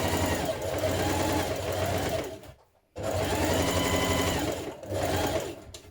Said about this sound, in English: Ease stitch around the cap of your sleeve between your markings.